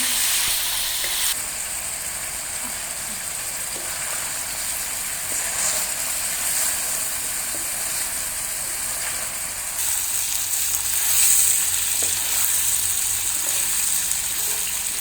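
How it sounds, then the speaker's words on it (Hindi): Chicken fries steadily in a pan for butter chicken, a continuous close sizzle and crackle with occasional stirring, growing slightly louder near the end; no one speaks. "चिकन को हम अच्छी तरह से फ्राई करेंगे।"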